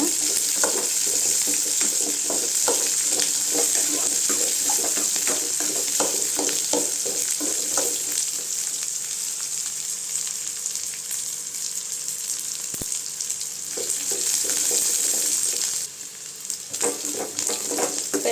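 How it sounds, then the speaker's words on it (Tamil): Pirandai and grated coconut sauté in a pan, a steady, close sizzle of frying with repeated soft scrapes and stirring taps from a spoon, continuous throughout with a brief dip near the end. "தேங்காயும் அது கூட சேர்த்துக்கலாம் எல்லாத்தையும் நல்லா சேர்த்து வதக்கி விட்டுக்கலாங்க"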